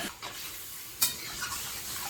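Okra fries in a pan with a steady close sizzle, broken by a sharp metallic scrape of a spoon stirring midway and a few softer stirring sounds after.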